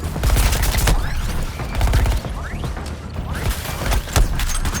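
Sustained gunfire from Deadshot in the action game Suicide Squad: Kill the Justice League, a dense barrage of loud, rapid shots with heavy thumps and mechanical clatter, continuing without pause throughout.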